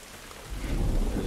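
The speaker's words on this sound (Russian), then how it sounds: "Еще и дождь идет." Rain falls in The Last of Us Remake on PC, a steady hiss of drops that swells into a heavier, fuller downpour with a low rumble partway through, with no voices.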